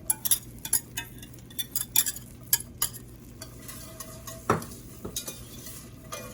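Onion and celery are stirred into melted butter in a pot, giving a steady soft sizzle under scraping spoon strokes and several sharp clinks of a utensil against the pot.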